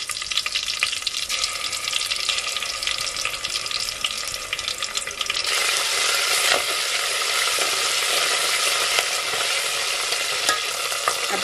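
Curry leaves and ginger-garlic paste frying in hot oil over a wood-fired stove, a steady close sizzle that swells louder and fuller midway as the paste hits the pan, with faint stirring, no voices.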